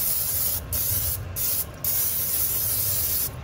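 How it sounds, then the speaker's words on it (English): Olive oil cooking spray hisses into a slow cooker pan in four short, close bursts, each about a third of a second long, separated by pauses over a low background hum. "So I want to spray the pan."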